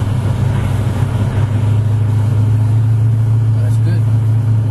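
A 1986 Jaguar fitted with a 350 small-block Chevy V8 runs at a steady, loud low drone, heard from the exhaust end, with no distinct revving.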